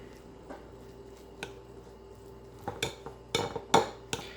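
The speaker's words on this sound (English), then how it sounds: "I'll mix it up, give it a little taste, and re-season if I need." Deviled egg filling being stirred in a bowl, with soft scraping and a few sharp clinks of a utensil against the dish that grow louder toward the end, with no talking.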